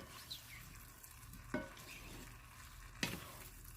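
A spoon stirs homegrown basil into a pan of meat sauce: a soft background sizzle broken by two sharp scraping clinks of the utensil against the pan, about a second and a half apart, with no talking.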